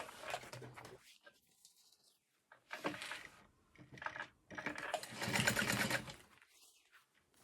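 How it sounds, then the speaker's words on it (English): A sewing machine topstitches fabric in a few short bursts separated by pauses, close and fairly quiet. "I'm gonna iron this flat and then top stitch"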